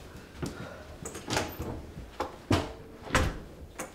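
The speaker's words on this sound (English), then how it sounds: "Did you open the door like that?" A door is opened indoors, heard as a series of sharp knocks, clicks and rattles of the door and latch, fairly close and moderately loud, with quiet gaps between the bursts.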